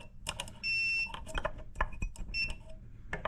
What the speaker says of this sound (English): What you're gonna see now is when I test continuity between where the wire supply would be and the fuse itself.